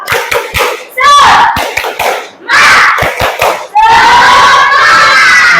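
A primary school class performs the tepuk semangat chant, sharp rhythmic claps in short bursts alternating with loud shouted group calls from children, close and energetic.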